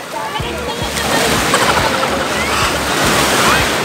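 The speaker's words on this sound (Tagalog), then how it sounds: "Malakas ang alon" Loud, churning ocean surf crashes and rushes close by at a beach, with heavy sloshing water and wind buffeting throughout.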